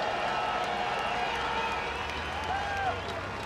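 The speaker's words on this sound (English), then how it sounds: "And listen to the crowd." Large motorsport crowd at the 2007 Japanese MotoGP, a continuous broad roar of cheering and applause from a distance, steady throughout with faint whistles and engine tones threaded through.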